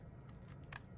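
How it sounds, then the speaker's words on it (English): Two quick, crisp snips of ribbon scissors that need sharpening, close and fairly quiet, with a faint hum in between. "I think my ribbon scissors need sharpening."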